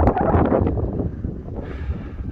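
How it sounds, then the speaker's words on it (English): Wind gusts buffet the microphone at a breezy mountain viewpoint on a caldera rim on La Palma, a steady loud rumble that eases slightly midway. "A bit breezy, I hope you can hear me."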